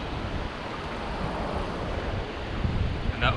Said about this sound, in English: Got those rapids right behind me.